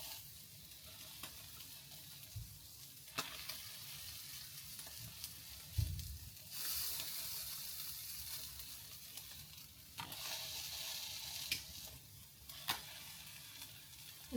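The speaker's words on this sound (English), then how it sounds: "This is about as close to frying food that I'm going to get." Salmon patties frying in a pan, a steady soft sizzle with occasional clinks and scrapes of a utensil stirring or turning them, close by and without talk.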